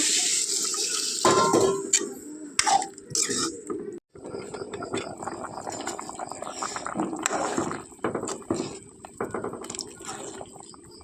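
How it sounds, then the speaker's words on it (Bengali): Water pours into a cooking pot in a home kitchen after salt has gone in, a continuous splashing, trickling stream with brief breaks and some handling clatter nearby. "এবার জল দিয়ে কিছুক্ষণ জাল করে নেব"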